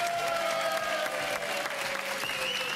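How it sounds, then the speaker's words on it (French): On a French TV game show set, a studio audience applauds in a steady mid-level patter, with a faint sustained tone running beneath the clapping. "Il est sympa, hein, Adrien, il applaudit"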